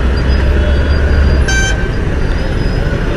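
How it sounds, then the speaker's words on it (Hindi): Dense heavy traffic at the Sasane Nagar railway gate in Pune, with a steady loud road roar and a single clear car horn toot in the middle. "ये जो ट्रैफिक है गाइस, ये इतना बुरा बुरा ट्रैफिक है"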